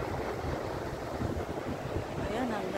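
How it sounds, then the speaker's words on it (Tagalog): Ocean surf rolls and washes steadily at New Brighton beach, New Zealand, under a windy, noisy backdrop, with a faint voice barely audible near the end. "Ang ganda ng alon."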